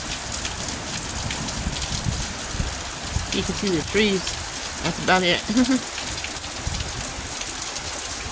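Heavy rain pours down steadily in a stormy downpour under a flood warning, a dense, constant hiss throughout while someone talks briefly in the middle.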